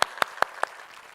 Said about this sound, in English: can we just give them a bigger round of applause